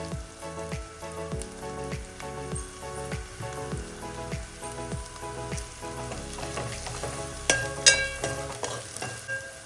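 Onions sautéing in a pan with cumin and coriander powder for a spicy mutton dish, a steady close sizzle under regular scraping stirring strokes, with a few sharper clinks toward the end.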